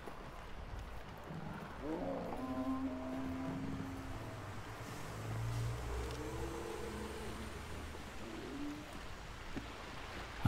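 Birds coo softly in the background of Hunt: Showdown, a first-person shooter. Faint, low calls repeat over a quiet outdoor ambience, with occasional soft voices.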